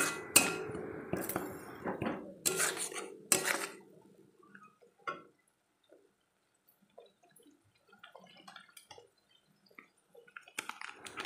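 Chilli paste is stir-fried in a pan for a stuffed teasel gourd curry. Loud bursts of spatula scraping and clatter come first, then it drops to near quiet with faint crackles and a few scattered scrapes.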